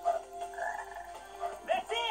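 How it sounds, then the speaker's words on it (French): A frog croaks in the video game Sonic Heroes, a few nearby tonal, buzzy croaks in short bursts, with a quick double call near the end. "Ok, donc une grenouille."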